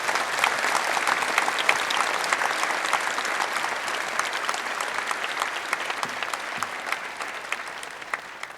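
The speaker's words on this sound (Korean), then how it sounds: "참석해주신 모든 분들께 감사의 박수를 올려주시기 바랍니다" Steady applause from a large audience at a church dedication ceremony, even and continuous clapping heard from a moderate distance, with little voice beneath it.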